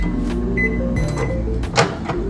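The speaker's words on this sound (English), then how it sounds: "you just put the bag in the microwave for 1 minute and 30 seconds." A microwave oven runs while heating a bag of rice, giving a steady low hum with a few faint clicks and rattles over it.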